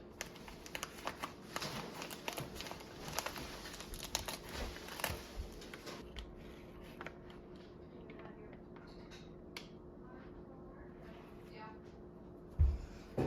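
Plastic packaging around Australian wagyu beef being torn open, quiet crinkling and rustling handling in bursts for several seconds, then softer scattered rustles and a brief bump near the end, close by with no talking.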